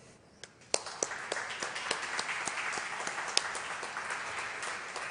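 An audience at an ophthalmology institute conference applauds together, a steady wash of clapping with sharper individual claps standing out, moderately loud and fairly close, with no talk over it.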